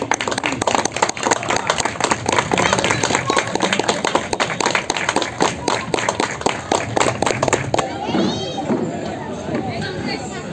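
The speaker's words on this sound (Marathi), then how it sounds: "टाळ्या." Group clapping at a building's Satyanarayan pooja gathering, a dense burst of hand claps over several seconds with voices talking throughout, thinning into scattered claps and chatter near the end.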